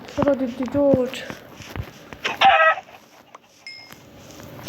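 Chickens in the video game Minecraft cluck in a few short, close bursts, mixed with brief clicks and game sounds, while voices are present.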